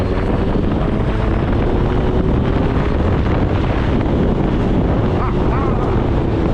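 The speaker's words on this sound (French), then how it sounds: "ce son de 4 cylindres à carburateur, mais c'est génial" A carbureted four-cylinder engine of a 1996 Suzuki 1200 Bandit motorcycle roars loudly and steadily, heavily buffeted by wind noise throughout, with no pauses.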